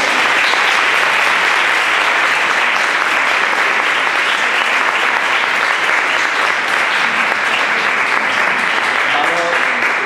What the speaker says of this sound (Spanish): Un fuerte aplauso para María, por favor.